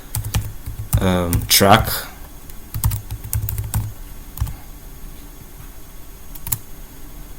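Quick bursts of computer keyboard typing, crisp close clicks in short runs with pauses, while a person speaks briefly over them while entering a Git command.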